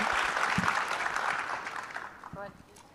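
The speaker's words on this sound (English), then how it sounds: "I think that deserves a pretty significant round of applause." An audience at a SXSW panel claps in a dense burst that slowly thins out over a few seconds, with a voice speaking briefly near the end.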